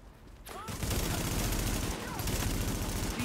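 Sustained rapid gunfire and shooting effects rattle continuously in the video game Tom Clancy's The Division, fairly quiet, with faint background voices and game sounds mixed in.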